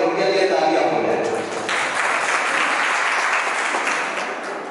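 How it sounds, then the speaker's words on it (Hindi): A crowd at a college event in Rampur bursts into applause after a speaker briefly finishes talking, the clapping rising into a steady, even wash that holds to the end. "एक बार उनके लिए तालियां हो जाए।"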